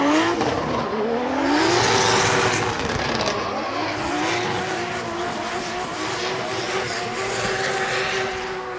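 A race car during drift qualifying at Ebisu Circuit West Course in Fukushima drops two tires off track into sand. The engine roars loud and close with rising and falling revs and tire noise, and grit and sand spray over it.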